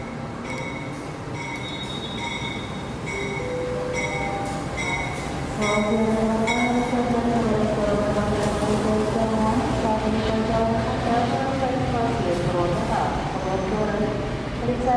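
KA Gajahwong Premium train pulling into Purwokerto station, a continuous rumble of railcars with rising and falling wheel squeal, close and steady, with a voice speaking over it.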